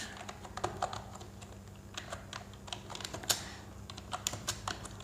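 Close, light clicking of a computer keyboard in an irregular, steady stream as a text description is entered, with no voice over the keystrokes.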